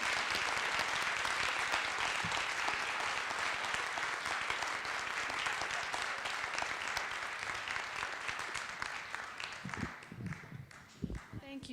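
Sustained applause from a conference audience thanking a speaker, a full steady roar of clapping that thins out near the end as a few voices begin to talk.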